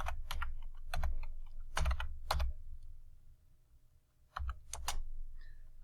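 Someone types on a computer keyboard while working in AutoCAD, with quick close clusters of crisp keystrokes, a short quiet pause, then another burst of clacking.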